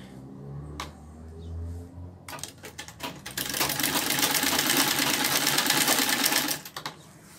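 A sewing machine with a worn needle stitches a simple frill rug, its fast, steady whirring running for about four seconds after a few quieter handling sounds.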